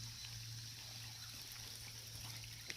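Water trickling in a small drainage creek, a faint steady wash of flowing water with a low hum underneath and no voices.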